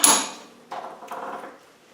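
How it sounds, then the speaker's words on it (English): Metal clanks and knocks as a handmade cheese slicer with a marble handle is clamped in a vise in a workshop: a sharp bright strike at the start, then a few duller, closer taps and rattles, with no talk. "So we just clamp one side in the vise."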